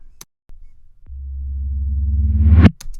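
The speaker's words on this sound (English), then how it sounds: "And then I have a reverse tom sound." A low reversed tom drum hit swells steadily louder over about two seconds, then cuts off abruptly at its peak, with a few faint clicks around it.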